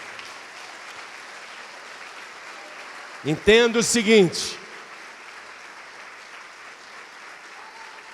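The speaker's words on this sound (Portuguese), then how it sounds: "Vamos aplaudir a este Deus que nunca falha." A church congregation keeps up a soft, continuous patter of applause in the background while someone speaks briefly and loudly over it partway through.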